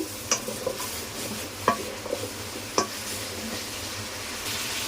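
Small pieces of potato fry in a spice paste in a pan, a soft continuous sizzle broken by several sharp scrapes and clinks as a utensil stirs them.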